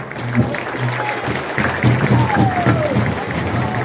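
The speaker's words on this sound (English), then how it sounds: "Give them a huge round of applause" A banquet crowd applauds as two speakers are welcomed to the stage, a broad wash of clapping mixed with cheering and crowd noise, with a low hum and voices underneath.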